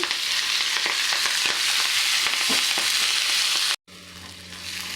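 Fenugreek leaves with red and green chilies sizzling in a pan while being stirred, loud steady frying with scraping strokes, then a sudden brief cut and a quieter sizzle resuming, no talk.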